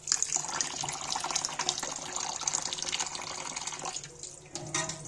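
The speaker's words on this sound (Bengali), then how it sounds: "চালটাকে আবারও জল দিয়ে একটু হালকা করে নেড়ে ধুয়ে নিচ্ছি।" Rice being gently stirred and rinsed in water before cooking for a chicken biryani, a steady close splashing and sloshing of water with no talk.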